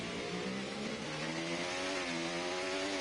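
A racing car engine in a sim racing league round at Brazil holds a steady, buzzy high drone, pitch edging upward as it accelerates, loud and continuous with no talk.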